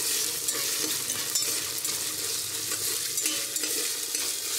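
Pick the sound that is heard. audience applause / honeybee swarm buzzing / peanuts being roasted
peanuts being roasted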